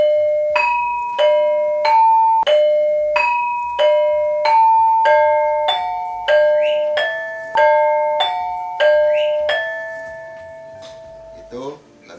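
Cirebon gamelan plays the gonjing piece, a series of struck metallophone and gong tones about every 0.6 seconds, each ringing and decaying, close and loud, ending with a wavering low gong.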